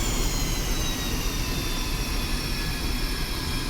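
Steady, loud jet engine roar from an aircraft taxiing in the DCS flight simulator game, a continuous whine and rumble with no talking.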